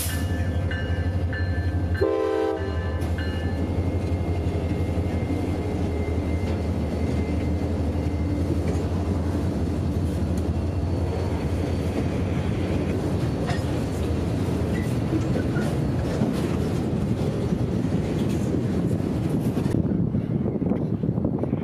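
A freight train passes with a rebuilt Jeep 40-3 locomotive leading a handful of boxcars in Central Florida: a short horn blast early, then a long steady rumble and clatter of rolling wagons, with some wind buffeting the microphone.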